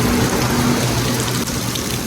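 Steady rain falls on a wet Wednesday morning outdoors near a market, a dense continuous patter with no voices, holding even throughout the short stretch.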